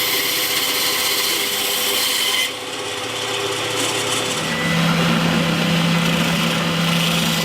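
Steady rasping of a saw cutting through olive wood, continuous and close, with a brief dip before the cutting resumes at a slightly different pitch.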